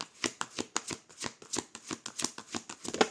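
Tarot cards being shuffled for a five-card reading, a close, crisp run of about a dozen evenly spaced riffling slaps in a quiet room, with no voices.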